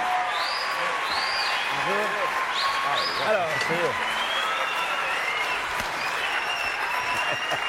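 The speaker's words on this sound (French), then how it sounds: "sous les applaudissements de la foule en délire de baseball" Crowd applause for a baseball world champion guest on a French TV show set, steady dense clapping throughout, loud and close, with someone talking briefly over it.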